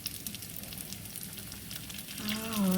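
Ground turkey egg rolls placed seam side down into hot oil, three at a time, fry with a steady close crackling sizzle that swells louder near the end.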